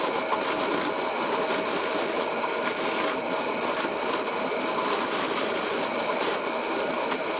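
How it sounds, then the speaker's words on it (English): Drill running a 1/2 inch bit into oak at 500 RPM, a steady close mechanical whir with a grinding edge that continues without pause, no voices. "So we are going into oak, 1/2 inch drill bit, 500 RPM."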